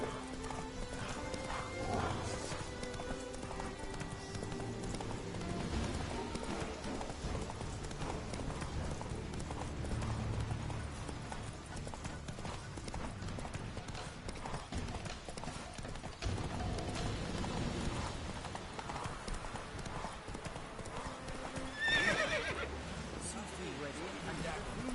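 Roach the horse gallops in The Witcher 3 video game, with continuous rhythmic hoofbeats and an occasional whinny, under game music and intermittent talking.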